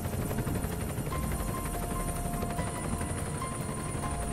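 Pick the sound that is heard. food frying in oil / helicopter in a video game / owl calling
helicopter in a video game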